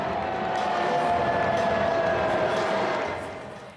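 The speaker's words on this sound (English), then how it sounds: "there's a bit of booing going on there" Sustained crowd noise at the US Open men's final, a steady roar of disapproval from a large stadium audience directed at Donald Trump, holding level for about three seconds before fading.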